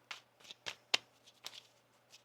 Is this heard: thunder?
no